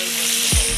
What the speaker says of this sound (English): She's doing some fried chicken.